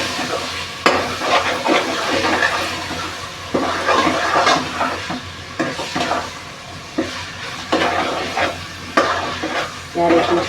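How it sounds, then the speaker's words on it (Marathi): Prawns sizzle and fry in a masala in a pan for a prawn and potato gravy, a steady crackling sizzle broken by repeated louder bursts of stirring and scraping, close and alone with no talk. "कोलंबी चांगली मसाल्यामध्ये फ्राय करून घेऊ"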